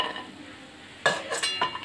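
Fried lentil badi lifted out of hot oil in a pan, quiet sizzle first, then several scraping and clinking scoops of a spoon against the pan, close and fairly loud.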